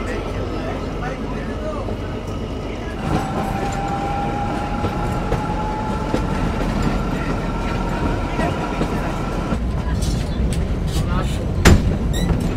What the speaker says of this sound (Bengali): একদম মেঘের মাঝখানে আমাদের এই কালকা শিমলা টয় ট্রেন, দারুণ লাগছে